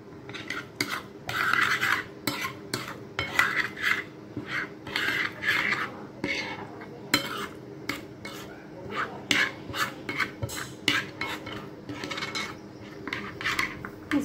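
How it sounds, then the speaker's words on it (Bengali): Fish curry spices mixed with mustard oil in a metal pot: repeated rhythmic scraping and rasping strokes of a spoon against the pot, close and moderately loud, in bursts with short pauses. "আর দিয়ে দেবো একটু সরষের তেল। সুন্দর করে মিক্স করে নিব।"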